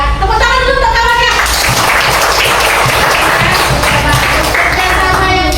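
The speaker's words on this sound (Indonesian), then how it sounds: "Tepuk tangan dulu untuk kawannya." A classroom of children applauds a group's presentation with dense, steady clapping throughout. An adult voice is heard briefly at the start, over the first of the clapping.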